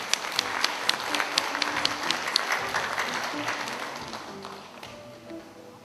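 Audience applause fills the hall at a ceremony marking the 100th anniversary of the founding of the Daehan Gwangbokdan independence group, with a few sharp, louder claps standing out early before the clapping gradually tapers.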